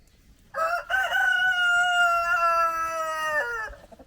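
A rooster in a winter garden gives one long, loud crow lasting about three seconds, close by, against quiet outdoor background with no talking.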